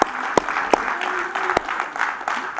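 A church congregation claps together for the Lord during worship, with a steady wash of applause punctuated by a few sharp, louder claps, close and lively, with murmured voices mixed in.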